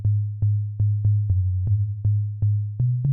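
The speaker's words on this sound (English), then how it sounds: "I've written a bass line for this bad boy already, which sounds like this" A low synth bass line from a saw oscillator in a wavetable synth pulses in short repeated notes with a punchy attack on each, mostly on one pitch before shifting slightly higher near the end, alone and fairly loud.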